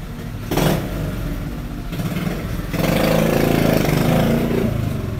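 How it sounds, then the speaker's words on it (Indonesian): Motorcycle with a loud aftermarket exhaust, revving and droning close by, with engine tone swelling and holding steady across the span. "ada iklan lewat ya tadi, iklan knalpot motor"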